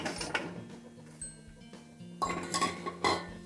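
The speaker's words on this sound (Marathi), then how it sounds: "हे बघा, अशी चाळणी ठेवून द्यायची. चाळणीमध्ये वाफवून घेते आता पूर्ण आवळे." A metal sieve is set down into a pot holding a little water, ready to steam whole gooseberries, giving a few sharp metallic clinks and knocks against the rim, with quieter rattles in between.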